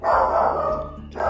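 A dog barks loudly and close by, one long sustained bark quickly followed by the start of another.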